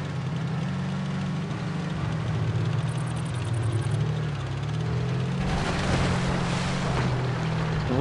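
A tank driving across a river in a World War II tank video game, its engine droning low and steady under a continuous wash of splashing water, with a heavier surge of spray partway through; no talk.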